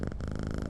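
An orange tabby cat in a video game purring, a close, steady low rumbling throb with fast even pulses, uninterrupted and alone.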